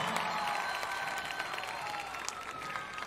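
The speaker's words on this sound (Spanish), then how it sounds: "Gracias por esos aplausos, gracias por esos gritos" Live concert crowd at a show at FIUC 2021 applauding, a dense wash of clapping with scattered cheers and shouts that stays steady and fairly distant throughout.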